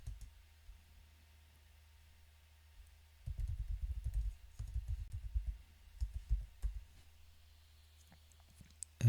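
Soft, close computer keyboard taps come in irregular bursts after a quiet stretch as commands are typed into a terminal, faint and muffled with short gaps between clusters.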